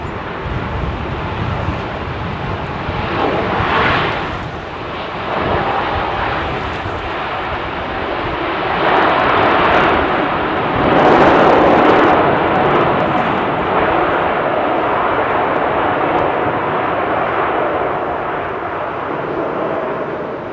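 Airliner landing on runway 09L at London Heathrow Airport, a loud sustained jet engine roar that swells and fades over about twenty seconds, with wind noise on the microphone.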